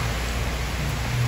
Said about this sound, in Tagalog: Kunting ulan lang guys